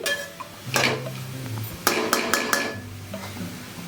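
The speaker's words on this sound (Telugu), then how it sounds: "ఇప్పుడు అందులోకి మనం ముందుగా కట్ చేసి పెట్టుకున్న క్యాప్సికాన్ని వేసుకుంటున్నాం ఇలా వేసుకొని అంతా ఒకసారి కలబెట్టుకోండి" Capsicum is stirred into fried onions in a pan, with a spatula knocking and scraping the metal in a few sharp clanks under a faint sizzle, close and without talking.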